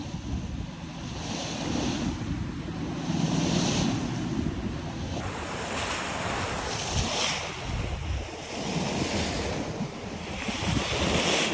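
Strong wind roars across the microphone over steady surf and breaking waves at an anchorage off Oahu, with gusts rising and falling continuously and no voices.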